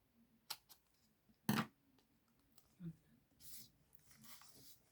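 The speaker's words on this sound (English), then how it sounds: "I'm going to cut them down if I can find the scissors." Scissors snip through paper in a few separate crisp cuts with quiet pauses between, close and soft, set amid gift-box crafting with dies.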